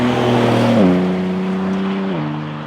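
A car engine idles and burbles deeply through big quad exhausts, a steady loud low rumble that drops in pitch twice as the revs settle, with no talking.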